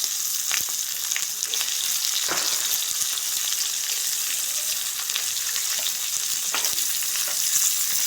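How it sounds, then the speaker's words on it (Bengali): Sliced onions fry in hot oil in a steady, loud, close sizzle that holds throughout, with occasional scrapes and taps as they are stirred, no voices. "পেঁয়াজগুলো তেলের মধ্যে খুব ভালোভাবে নেড়ে চেড়ে ভেজে নেব।"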